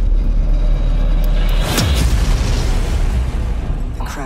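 A crash explosion in a video game hits as a loud, close boom with a sweeping rush, then a long rumbling tail over dense background noise.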